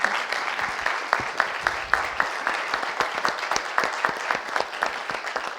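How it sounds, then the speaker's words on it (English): Enthusiastic audience applause for a professor after a lecture on Nordic inclusive education, with steady, dense clapping that keeps its pace for several seconds and has no talk over it. "So please, another clap your hands to our professor."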